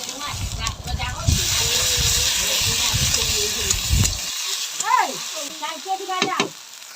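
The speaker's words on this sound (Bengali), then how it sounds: "এবার আদা রসুন বাটাটা দিয়ে দেবো" Ginger garlic paste hits hot oil in a pan with a loud, steady sizzle and stirring scrapes up close, then the frying cuts out abruptly as someone speaks in the kitchen.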